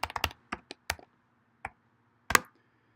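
Computer keyboard typing in a maintenance-tracking setting: a quick cluster of sharp, close keystrokes, then a few sparse taps spread out, ending with one louder key press.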